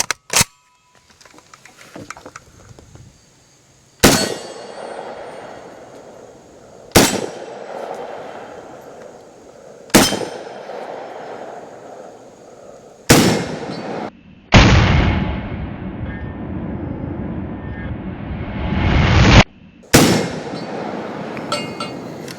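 Single shots from a PSA GF3 AK-47 rifle at an outdoor shooting range, six or so loud, sharp cracks spaced a few seconds apart, each trailing a short echo, with no talking.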